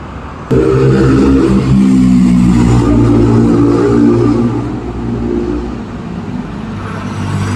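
A motor vehicle drives past at moderate speed at night: a steady, fairly loud engine drone starts abruptly, holds for several seconds, then eases off slightly as it moves away.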